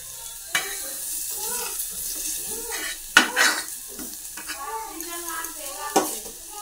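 Carrot lightly frying in a pan, with a soft sizzle under stirring and a few sharp utensil clicks against the pan, near and moderately loud, with other faint sounds in the background.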